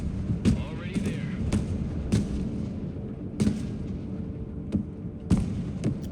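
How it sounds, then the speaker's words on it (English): Artillery fire in the war game Broken Arrow, a string of heavy booming impacts landing at irregular intervals, some close and punchy, others more distant, with low rumble between blasts. "There goes the artillery."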